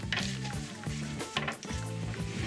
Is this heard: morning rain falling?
no